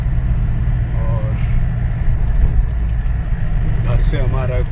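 A car engine idles at a petrol pump, a steady low rumble running throughout while people talk over it nearby.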